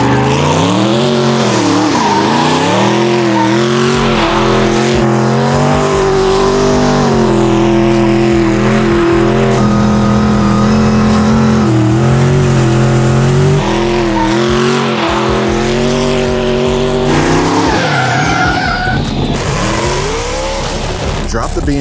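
An 1100hp 2JZ-engined Polaris RZR doing victory donuts, its engine revving and wavering loudly with tire skidding sounds, while voices talk nearby.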